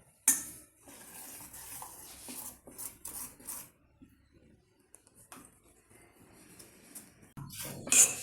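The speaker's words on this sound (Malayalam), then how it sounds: "നമുക്കിത് ഇളക്കി നോക്കാം പാകത്തിനായോ എന്ന്." Dosa batter is stirred in a vessel with a spoon, giving soft scraping and sloshing strokes in irregular bursts with brief pauses and a few metallic clinks.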